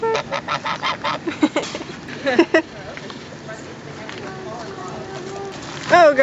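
Geese on a farm honking in a rapid series of loud, close, nasal calls, then quieter ambience before another burst of honks at the end, with people talking nearby.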